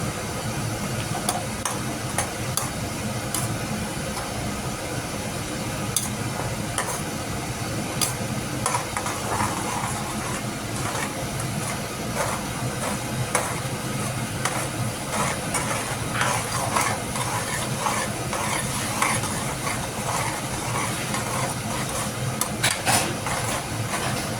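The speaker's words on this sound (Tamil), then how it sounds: "வெறும் புதினா சாறு மட்டும்தான் வதக்குறோம், அதுக்குள்ளார போடுறோம்" One kilo of mutton sautés with mint juice and tomatoes in a pan, a continuous dense sizzle with scraping stirring clicks throughout, steady and close with no talking.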